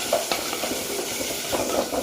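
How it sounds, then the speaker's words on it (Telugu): Ground turmeric goes into a hot, sizzling pan that already holds cooked ginger, while a spoon stirs through it in short scraping strokes over a steady, close frying hiss. "పసుపు వేస్తున్నాను."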